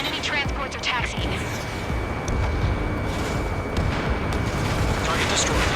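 Explosions and booming impacts as ground targets are destroyed in the Ace Combat 7 flight combat game, a dense rumbling barrage with sharp bursts over steady jet noise, with radio voices talking throughout.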